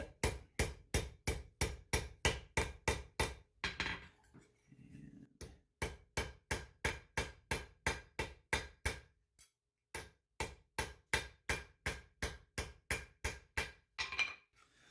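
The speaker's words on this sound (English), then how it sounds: "So I've spent about 5 minutes hammering this." Steady hammer blows tapering a metal Viking-age arm ring, sharp ringing strikes in quick even runs of about two per second, close and clear, with two short pauses between bursts and no talking.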